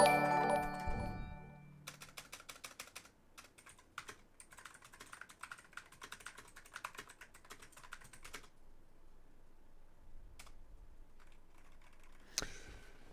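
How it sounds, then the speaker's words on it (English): Rapid, forceful keyboard typing clatters in dense bursts, pausing briefly, with a louder clack near the end. "Aggressively typing, heavy breathing."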